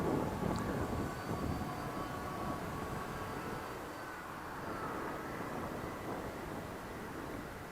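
A HobbyKing Athena carbon-fibre and balsa RC warmliner glides overhead, giving a steady, soft airy whoosh with a faint motor-like hum that holds evenly for several seconds with no talking.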